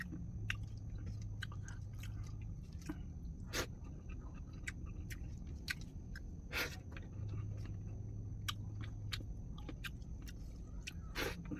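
Someone chews fresh spicy vegetables dressed with a little vinegar, giving soft crunches and bites close to the microphone, repeated irregularly over a quiet, steady background hum.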